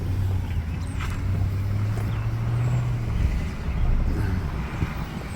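A vehicle drives slowly down a road through a flooded area in Clay City, Kentucky, its engine hum steady and close, with a broad wash of water and road noise throughout and no voices.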